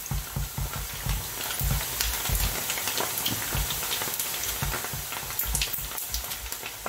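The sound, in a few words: churros frying in oil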